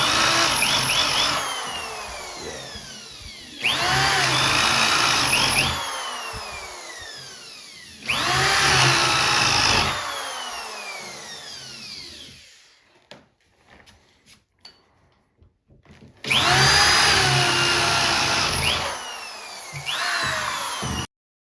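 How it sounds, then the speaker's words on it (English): Power drill boring into an overhanging wooden stair nosing for baluster tenons, loud whining bursts of several seconds each, four separate runs with quiet pauses between them. "this nosing is overhanging, so I'm not going to drill all the way through"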